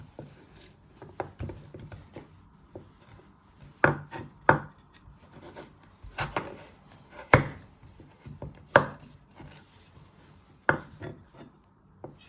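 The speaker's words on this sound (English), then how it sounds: "So you're going to chop them one more time into 3 pieces." A kitchen knife chops butternut squash into chunks on a board, giving a run of sharp, close knocks at an uneven pace with short pauses between cuts, and no talk.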